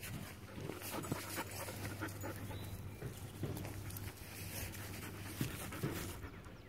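A dog on a gentle leader sniffs around an interesting corner outdoors, panting steadily and close by for several seconds, with soft snuffles and faint background hum and no one talking.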